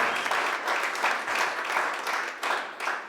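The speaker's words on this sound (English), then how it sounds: "let's give a round of applause for the judges" Audience at a startup pitch night in Green Bay claps for the judges, a steady crowd of hands at moderate level that swells and dips slightly over a few seconds.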